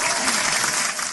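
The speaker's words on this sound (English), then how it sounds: "I'm gonna give a round of applause for everyone in that." A crowd gives a round of applause, dense steady clapping that fills the whole moment before easing slightly at the end.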